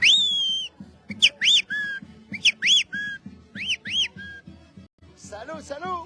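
Sharp, bright whistles from people at a carnival dance in Acobamba, Peru, repeated rising and falling whistled phrases in bursts over a steady rhythmic folk band beat, loud and close, with a flurry of warbling whistles at the end.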